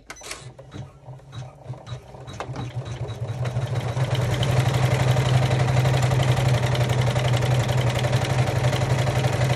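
A sewing machine stitches a sturdy bean stitch through vinyl while making a clutch bag, starting with a few separate stitches and then settling into a fast, steady, loud mechanical chatter that runs on without any talking.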